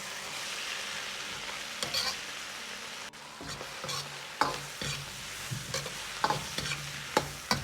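Green beans, fried egg and red pepper stir-fried in a wok give a steady sizzle, with irregular scraping strokes of the spatula against the metal. No one speaks.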